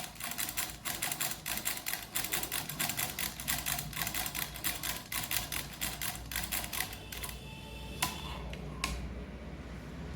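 Umbrella sewing machine run at fast speed, a rapid, even train of sharp mechanical clacks close by, steady for most of the clip before slowing and thinning out near the end, with no talk.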